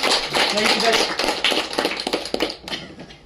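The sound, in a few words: applause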